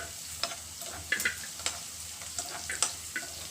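Green chilies roasting in oil for mutton biryani, producing a quiet steady sizzle with rhythmic light scraping and tapping from stirring, no talk.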